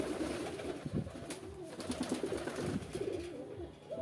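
Pigeons cooing inside a pigeon house at night, with several low, throaty coos overlapping at close range against a soft background rumble.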